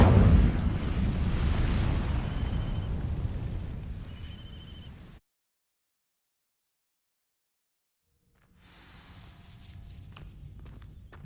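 An Incendio fire spell in Hogwarts Legacy ignites dry vines with a loud whooshing burst that crackles and fades over several seconds, then silence, followed by quieter rustling and movement.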